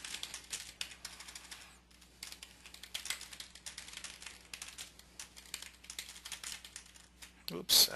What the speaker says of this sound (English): So if I start typing some information out